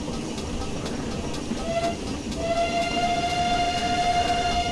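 The brake whistle on a GWR Small Prairie 2-6-2T steam locomotive in Train Simulator Classic sounds a thin, high, steady tone. It gives a short blip, then holds a longer sustained note over the engine's rhythmic running clatter.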